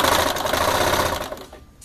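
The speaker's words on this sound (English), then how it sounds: "we're gonna stitch on the curved part" A sewing machine runs fast and close, stitching the waistband of a circle skirt in a loud, even mechanical whir that winds down and stops near the end.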